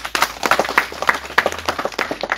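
Audience applause at a public gathering, a steady run of dense claps lasting the whole moment, fairly close and loud, with no voices over it.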